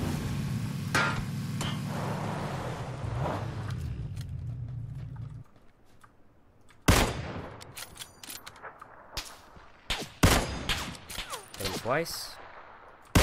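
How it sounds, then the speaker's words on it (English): Tommy gun gunfire in PUBG, a series of sharp shots and rapid bursts in the second half after a steady engine drone, with a voice speaking briefly. "Sounds like he's got the Tommy gun"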